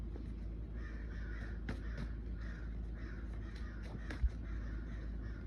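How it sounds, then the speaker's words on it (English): Crows caw in the background outdoors, a rough series of repeated calls over a steady low hum, with a sharp thump near the end and no speech. "What's these crows in my background for?"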